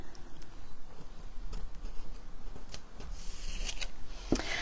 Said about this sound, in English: now let's peel off this mask and then I'll show you the card underneath